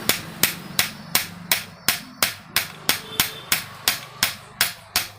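A hammer strikes a 22 mm spanner to drive a bearing into an exhaust fan motor, about fourteen sharp metallic blows in a steady, even rhythm, loud and close with no talk.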